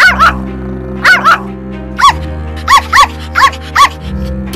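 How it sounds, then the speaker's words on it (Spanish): A dog barks in short bursts, about eight sharp barks spread unevenly over a few seconds, loud and close over a steady low hum. "¡Nos va a oír si sigues ladrando!"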